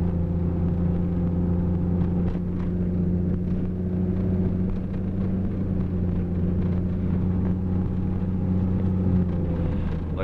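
A Jeep engine drones steadily while driving through fresh snow in two-wheel drive during a 2015 Wisconsin snowstorm, a continuous low rumble with a faintly shifting tone throughout.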